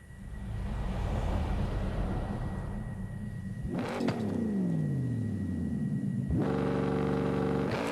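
Car engine held at launch in Forza Horizon 5 on its stock exhaust: a loud, steady rumbling rev, a sweeping whoosh and pitch drop in the middle, then a deep, strained, held rev near the end, with no talk.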